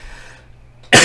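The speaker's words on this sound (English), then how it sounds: "I have a slight cough." A single short, loud cough bursts out at the end after near silence, from a person who is slightly sick with a sore throat.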